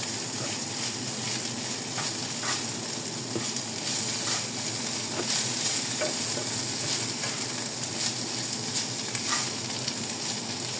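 Chicken and holy basil are stir-fried in a pan, with a continuous loud sizzle and scattered scraping stirs throughout and no voices.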